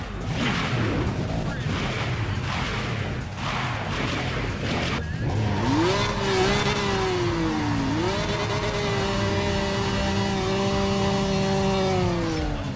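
Race car engine in Need for Speed ProStreet on a top-speed run, a steady loud roar that climbs in pitch through gear changes and keeps rising, with a driver talking briefly over it.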